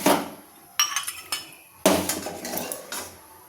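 Oil being taken out of a pan after frying potatoes, with a few sharp metal clinks and scrapes of a spoon against the cookware, each ringing briefly before fading, no talking.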